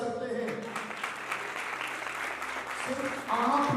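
Audience clapping at a Hindi Christian church service, a steady wash of applause running throughout and swelling louder near the end, with a speaking voice over it.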